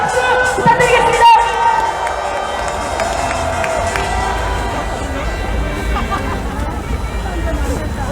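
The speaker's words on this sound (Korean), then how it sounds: "큰 박수 부탁드리겠습니다." Crowd at a political rally cheering and clapping as speakers are introduced, a loud mix of shouts, applause and babbling voices lasting throughout.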